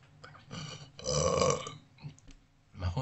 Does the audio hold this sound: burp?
yes